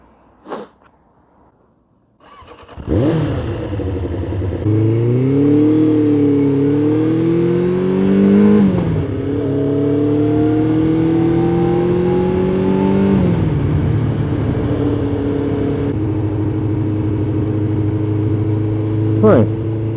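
A Suzuki GSX 600 motorcycle pulls away and is ridden, its engine rising through revs in several stepped gear changes, then settling into a steady loud drone close to the microphone, with a brief click near the start and end.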